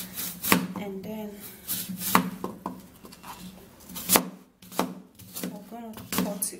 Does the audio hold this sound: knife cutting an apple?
yes